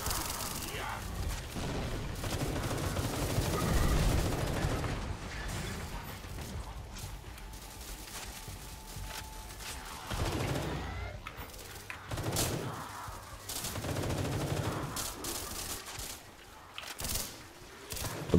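Gunfire in a Roblox zombie video game, repeated shots and bursts spread over a long stretch, moderately loud with booms and mechanical clatter, mixed with occasional talk.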